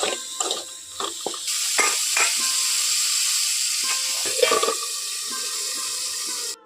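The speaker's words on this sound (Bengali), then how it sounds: "দিয়ে দিচ্ছি লবণ আর দিয়ে দিচ্ছি হলুদ খুব ভালো করে আলুটাকে ভেজে নেব লাল লাল করে" Diced potatoes with salt and turmeric fry in a pan for dumur chingri, a steady close hiss with stirring clatter and scrapes throughout and no voices.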